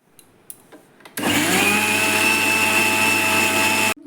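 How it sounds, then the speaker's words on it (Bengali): Kitchen blender whirring at full speed through a paste mixed with semolina and yogurt, a loud steady motor whine that kicks in after a few soft clicks and cuts off sharply near the end. "তারপর সব একসাথে করে আমি আবার ব্লেন্ড করে নেব।"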